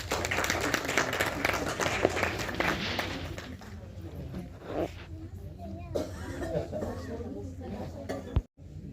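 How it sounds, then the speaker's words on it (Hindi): A crowd at a book launch event claps steadily amid chatter and murmuring, fairly loud at first and then thinning out as voices continue. "एक जोरदार तालियां तो बजाएं।"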